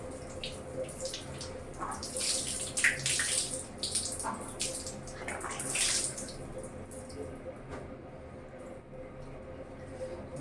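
Water runs and splashes steadily from a tap while clothes are washed by hand, with scrubbing and sloshing bursts rising and falling over about ten seconds. No talking.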